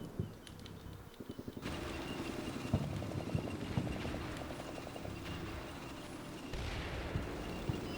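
Artillery barrage fire in the Cold War wargame Combat Mission Cold War, with a dense rolling rumble and rapid bursts of distant booms and crackling impacts layered continuously.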